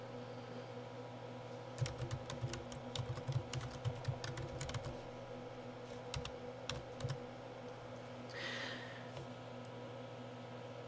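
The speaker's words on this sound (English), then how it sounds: "as I type longer sentences or words" Typing on a computer keyboard in bursts of quick, light key clicks with short pauses, fairly close over a steady low electrical hum, with no talking.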